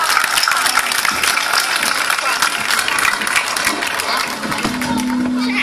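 Live audience applause at an outdoor arena concert, dense steady clapping filling the space for several seconds, with a few voices mixed in.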